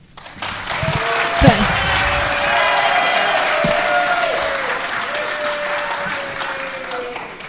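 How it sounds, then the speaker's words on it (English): An audience at a mayoral debate in Camden applauds steadily for several seconds, a dense, loud wash of clapping with a brief swell near the start, while a voice speaks over it. "every minute that is spent cheering and clapping"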